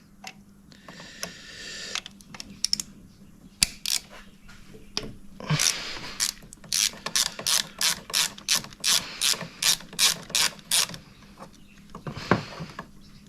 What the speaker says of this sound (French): Je vais dévisser le deuxième.